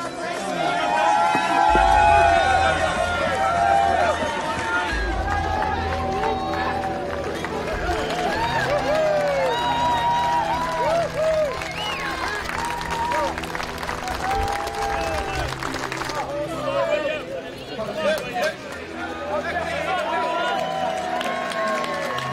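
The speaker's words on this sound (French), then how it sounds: "Applaudissements." A crowd at the 2022 Qatar Prix de l'Arc de Triomphe horse race applauds and cheers loudly, with sustained clapping and crowd noise mixed with voices chattering and talking throughout.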